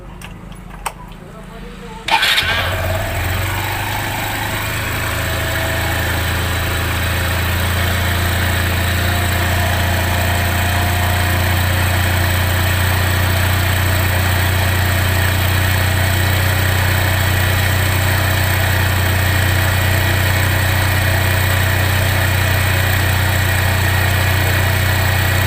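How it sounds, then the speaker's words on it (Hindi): A motorcycle engine starts after a couple of seconds of quiet handling noise, then settles into a steady, loud idle with a constant low hum that continues to the end. "चलो मैं बाइक को स्टार्ट करता हूँ"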